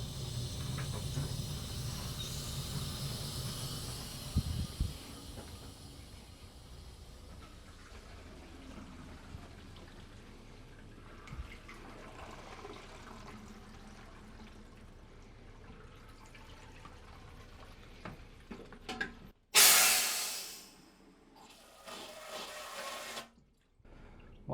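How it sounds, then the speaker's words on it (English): Water runs through a hose into a DIY three-stage RV water filtration system, a faint continuous hiss and trickle with a few clunks, ending in a brief loud rush and spray. "let's go ahead and turn the water on and let's check to see if there are any leaks"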